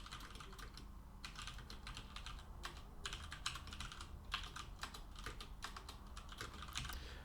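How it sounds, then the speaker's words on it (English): Someone types sample text on a computer keyboard in a quiet room, with rapid, uneven bursts of soft key clicks and short pauses throughout. "So let's type some sample text in here."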